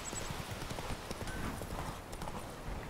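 Horse hooves clip-clop in a quick galloping rhythm as the horse Roach runs in The Witcher 3 video game, steady and fairly close for a few seconds.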